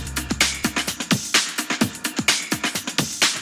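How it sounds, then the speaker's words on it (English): Breakbeat drum loop used as a snare source for house music production, with punchy kicks and crisp snares in a steady syncopated pattern, loud and dry, no voices. "The breakbeat loop sounds like this."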